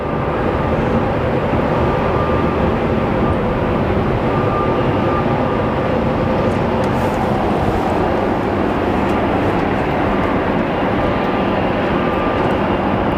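A plane at Phoenix Sky Harbor Airport roars steadily and loudly for the whole stretch, a broad continuous engine rumble close by with no talk over it.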